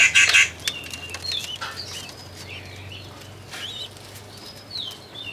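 A pigeon shuffles and flaps its wings close by, a loud burst of fluttering at the start followed by softer rustles, scattered coos and a few faint bird chirps.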